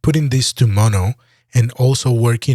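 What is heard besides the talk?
No everyday noises stand out.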